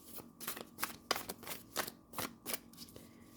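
Tarot cards are shuffled close by in a quiet room, a run of soft, papery riffles and slaps repeating in uneven bursts, with no talking.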